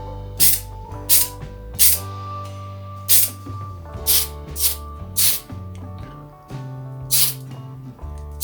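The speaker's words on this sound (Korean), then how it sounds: "도색은 다이소에서도 쉽게 구할 수 있는 스프레이 페인트로 칠해줍니다." Spray paint can spraying a Lego figure, giving short sharp hissing bursts in an irregular rhythm over steady background music with sustained tones, and no talking.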